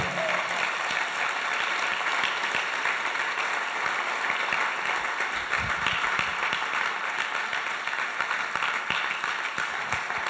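A church congregation applauds during a sermon, a continuous, full round of many hands clapping that fills the room at steady loudness for about ten seconds.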